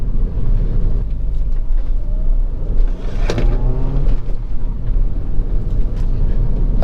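A Mini Cooper rumbles over a bumpy road, steady low road and engine noise broken by clunks and jolts from the suspension, with a brief whine partway through and no talking.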